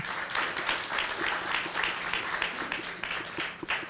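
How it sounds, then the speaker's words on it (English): A conference audience gives a round of applause, a continuous crowd clapping with some individual claps standing out, moderately loud and unbroken by speech. "give a round of applause again"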